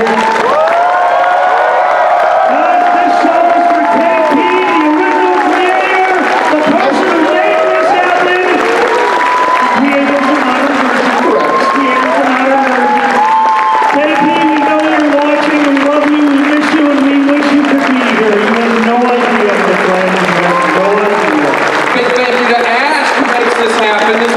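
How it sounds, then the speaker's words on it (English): A convention audience at Anthrocon 2018 applauds and cheers loudly and steadily, with whoops and shouts rising over the dense clapping while a voice carries through the crowd noise. "just applaud thunderously so he knows that he is missed"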